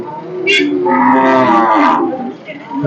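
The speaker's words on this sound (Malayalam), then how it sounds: "അതായത് ചന്തയ്ക്ക് എത്തിയിട്ടുള്ള ഒരു മാടാണ്" Cattle at the Melepalayam livestock market give a long, loud, close moo that swells and fades, with a brief higher call just before it.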